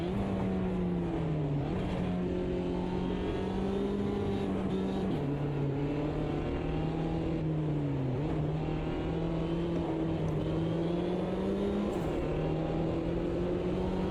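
A race car engine drones steadily at high revs in a sim racing game played on a Steam Deck, pitch dipping briefly through turns and gear changes, continuous and close.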